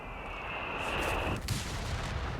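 A long-range artillery barrage in the strategy game Company of Heroes 3, heard as a sustained loud rumbling roar of shelling with a steady high whine that cuts off midway, then a thud.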